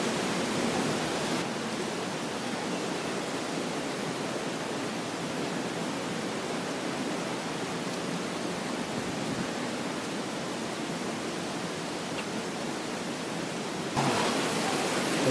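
Sekumpul waterfall in Bali roars as a steady, dense wash of falling water, loud and unbroken throughout with no voices.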